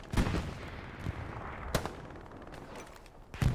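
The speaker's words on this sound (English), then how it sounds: "Pulling artillery on that map." Artillery fire in Hell Let Loose, a World War II video game: a handful of heavy booms and cracks landing at irregular intervals over a steady rumbling battlefield backdrop, moderately distant with no talk.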